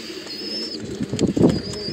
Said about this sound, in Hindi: इनका बॉडी स्ट्रक्चर देखें इनका पर देखें, असल है बॉडी स्ट्रक्चर कबूतर का ना।